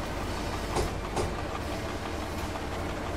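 Train rolling along tracks in the Train Driver 2 game on the Sandomierz route, a steady low rumble with a couple of faint rhythmic wheel clicks.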